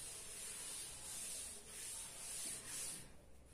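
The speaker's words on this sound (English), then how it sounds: "I'm going to rub this one." Writing being rubbed off a classroom board during a maths lesson, quiet scratchy rubbing strokes in a few swelling passes, faint and close, no talk.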